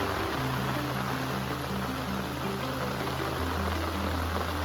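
Steady rain hissing outdoors in Konkan without a break, with a low, constant hum running underneath.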